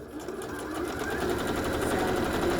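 A sewing machine runs steadily, stitching a double seam along the bottom hem of a pair of pants, a continuous close whirring hum with no talking.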